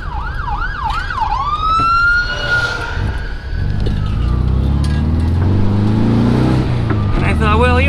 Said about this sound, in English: Uh-oh, we got an ambulance coming up behind me here.